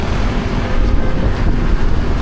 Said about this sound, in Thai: โอ้อากาศดีเลยลมพัดเย็นดีทุกคน